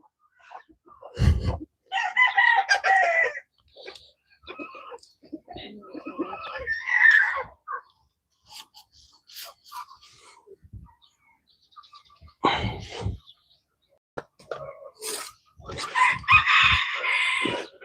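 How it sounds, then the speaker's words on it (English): Several roosters crow in repeated bursts among clucking chickens and other fowl in a farmyard, loud and near with silent gaps between calls. "there's multiple roosters down here trying to get in on it"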